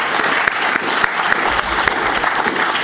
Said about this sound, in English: another round of applause for Bill Sims.